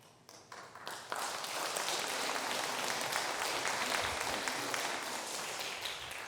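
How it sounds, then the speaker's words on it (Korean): Audience applause in a Korean church just before a sermon at Orange Canaan Presbyterian Church, a dense, sustained wash of many hands clapping that swells quickly and holds loud and steady. "이렇게 설교 전에 박수 받아보기는 생전 처음입니다"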